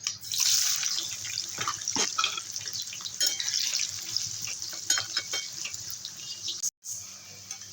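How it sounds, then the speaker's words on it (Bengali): Pieces of raw jackfruit fry in hot oil in a wok, a close crackling sizzle with scattered pops and a brief clatter near the end. "এবারে এঁচোড়গুলো ভেজে নেব"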